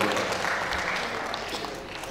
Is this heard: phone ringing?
no